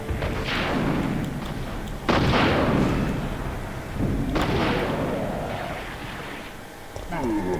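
Three heavy, booming blasts from a rocket launcher in Resident Evil 3 (1999), spaced about two seconds apart, each a loud thump with a decaying rumble.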